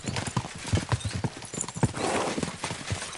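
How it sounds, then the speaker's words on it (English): Horses' hooves clip-clop rapidly and steadily in a video game, with a brief whinny-like call mixed into the close, busy hoofbeats. "We should spur the horses on."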